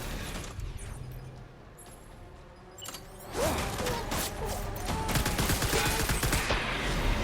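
Gunfire rattles in the video game Death Stranding: sparse distant shots give way to rapid, dense bursts of fire that build louder in the second half, alone without talking.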